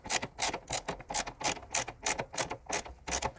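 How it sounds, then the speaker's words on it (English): A 12mm socket wrench ratchets to loosen a bash plate screw on a Subaru Outback 2.5L, a close, steady run of about a dozen rapid clicking strokes with no talk. "Just take your 12mm socket on the socket wrench and we're going to loosen that one off."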